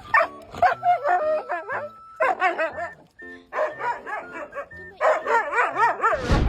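A pet dog greets its owner with a run of excited whimpers, yips and short barks, close and lively, in uneven bursts with brief pauses between them.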